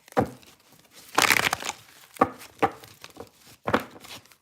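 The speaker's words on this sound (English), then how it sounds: "All right, let's do one more good shuffle." Tarot cards being shuffled by hand, heard as several brisk, crisp papery bursts close by, separated by short pauses, with no talking.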